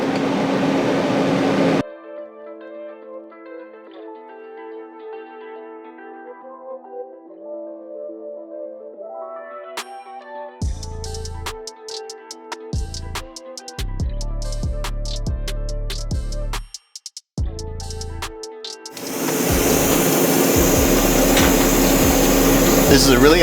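A TIG welding arc runs on a joint being heated very hot for deep penetration, giving a steady buzzing hum with crackly stretches and brief cutoffs, loud and close, framed by louder machine noise at the start and end.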